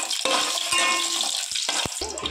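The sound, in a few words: frying cardamom, cinnamon, cloves and star anise in a pot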